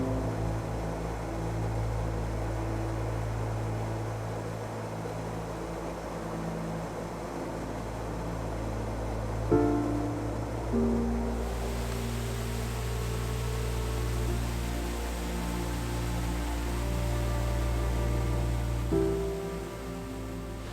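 Steady, dense roar of a waterfall swollen after heavy rain, a broad continuous wash of rushing water heard close and loud for the whole stretch, with faint low hums and small shifts but no talking.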